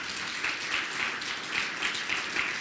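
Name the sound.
audience applause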